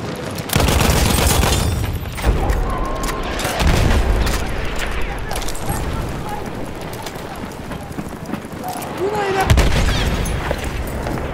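Battlefield 1 multiplayer battle on Operation Kaiserschlacht, with heavy booms and rattling machine gun fire under dense combat noise, loud and continuous, flaring again near the end.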